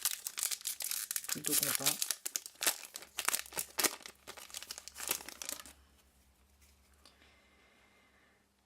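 A foil trading card booster pack is torn and crinkled open at close range, with loud bursts of crackling over roughly the first six seconds before it falls quiet, and someone speaks briefly early on.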